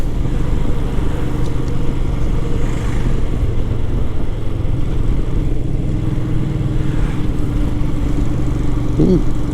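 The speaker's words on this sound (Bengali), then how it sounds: "এই হিমালয়ানটা এখন আবার রাইড শুরু করলাম" A Royal Enfield Himalayan motorcycle rides along a mountain road, its engine a steady loud drone with rushing wind noise held throughout, close up and without talk.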